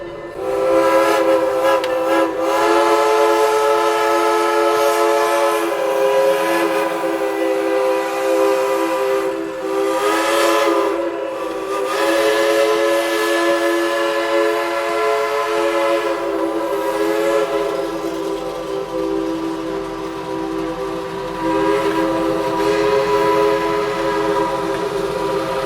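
Southern Railway 154 train passing close by near road crossings, a loud sustained multi-tone whistle holding for long stretches over continuous rumbling wheels and rail noise, with no voices.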